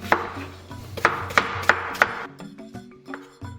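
A knife chops peeled apples into small pieces for compote on a cutting board. Five evenly spaced, sharp wooden knocks land about every third of a second, followed by a few softer scraping taps, close and without speech.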